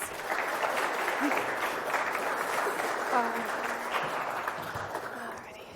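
Audience at an industry career panel applauds a visual effects generalist being introduced, a sustained, even wash of many hands clapping with faint voices beneath, easing off toward the end.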